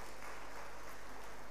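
A seated audience at the opening ceremony of a senior college's annual cultural festival applauds in a dense, steady wash of clapping that continues without a break and sounds somewhat distant.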